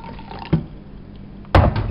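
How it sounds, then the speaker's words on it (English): Warm water poured into a bowl of milky cereal: a short splash, a quiet gap, then a louder, steady close-up pour at the end. "Now, the warm water."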